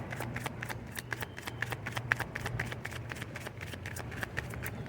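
Tarot cards shuffled by hand in a steady run of crisp riffling slaps and flutters, close and fairly loud, with a low room hum underneath and no speech.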